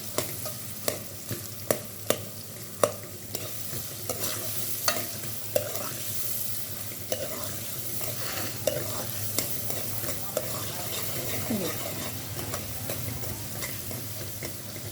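A pan of frying for karela chicken hisses steadily while a spoon stirs, producing regular sharp scraping clicks every second or so over the continuous close sizzle as the contents turn reddish.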